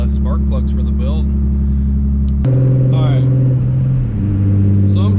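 Nissan 350Z engine pulling uphill in sixth gear at light, roughly quarter throttle, a steady low drone with a deep hum that shifts pitch partway through, close and continuous.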